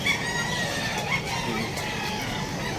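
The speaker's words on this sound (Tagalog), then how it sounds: "yung mga manok." Chickens at an outdoor pet market in Bulacan cluck and crow in a steady noisy din, with brief higher calls standing out over constant background bustle.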